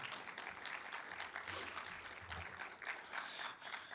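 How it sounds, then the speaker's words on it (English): An audience applauds a speaker's boss and friend at a talk, a soft, fairly distant patter of many hands clapping with slight swells in the middle, steady and without speech. "Give a warm applause to my boss and my friend, please."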